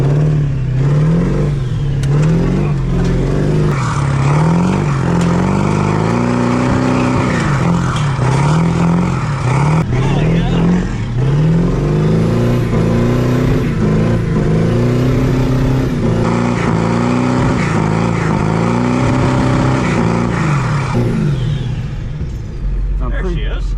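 A truck engine runs in deep snow, its loud, throaty drone rising and falling in pitch as it revs up and settles back down over a sustained stretch.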